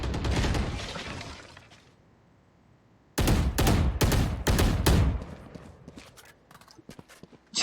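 Rapid bursts of video game gunfire during a 3v3 tournament match, loud clustered volleys of sharp shots after a quieter stretch, then scattered fainter shots trailing off.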